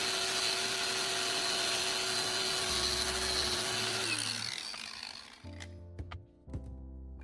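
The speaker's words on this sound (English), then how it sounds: "Our sanding disc is excellent for removing rust, revealing the clean metal underneath" An angle grinder fitted with a homemade sanding disc cut from an old CD grinds rust off metal, a steady high whine with scraping, then the motor spins down and a few knocks and handling clatters follow.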